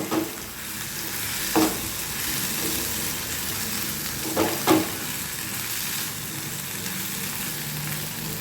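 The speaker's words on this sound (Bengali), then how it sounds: "এগুলো সব এবার একসাথে ভাজবো" Egg frying with tomato sauce in a pan, a steady close sizzle with a few soft scraping stirs and brief clinks.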